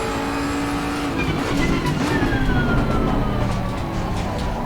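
A Bentley Continental GT3 race car engine in Assetto Corsa Competizione, a sustained loud drone with rising and falling pitch as the car pulls through a lap, no voices.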